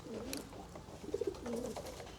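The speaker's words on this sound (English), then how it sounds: "I actually hate pigeons, but I will make an exception for you." Pigeons coo softly on a Venice street, a few low, rolling calls repeated close by, with faint background noise and no talking.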